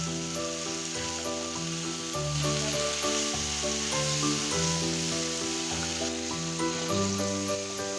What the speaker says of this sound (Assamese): অলপ সময় মিডিয়াম ফ্লেমতে ভাজি থাকিম